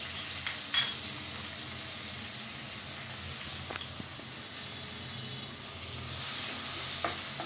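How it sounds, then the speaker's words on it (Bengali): Chopped onion, garlic and green chilies fry in a pan with a soft, steady sizzle, broken by a few light clicks of stirring; fairly quiet, with no talking. "আমি এখন খুব সুন্দর করে এটাকে ভেজে নিব, আধা ভাজা করে, যেন পেঁয়াজ, রসুন আর কাঁচা মরিচটা সুন্দর মতো একটা ফ্লেভার আসে ওটা থেকে।"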